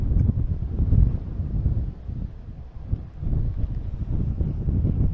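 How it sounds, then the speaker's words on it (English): Strong wind rumbles and gusts across the microphone outdoors while a drone is flown before storm season, a low, uneven roar that swells and dips throughout with no talking. "It's too windy for you to be fighting this wind too much longer."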